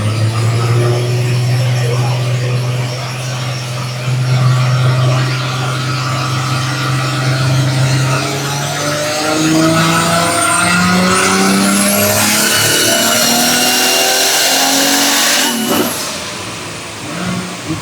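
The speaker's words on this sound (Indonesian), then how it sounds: "Nah itu tadi run dyno kelas FFA yang pertama dari Toyota Chaser." Toyota Chaser running on a dyno in an FFA-class pull, its engine climbing steadily through the revs from a low drone to a loud high-pitched scream, then cutting off sharply near the end.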